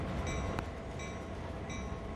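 Steady rumble of a CSX locomotive running in the Train Sim World video game, a continuous loud engine drone with faint repeating high tones and one brief sharp click, no voices.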